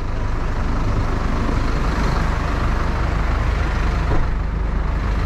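A tow truck engine rumbles steadily at close range, low and loud, with traffic-like noise and no talking.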